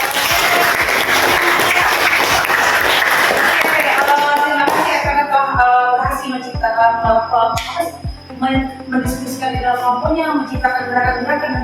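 A classroom of students gives a burst of loud, dense applause for about four seconds. It then thins into scattered rhythmic claps mixed with voices and other busy room noise.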